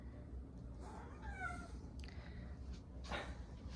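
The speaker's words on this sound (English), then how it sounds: "Sorry, the black cat's crazy." A black cat lets out a few short meows, fairly faint and close, over a low room hum with a sharp rustle between calls.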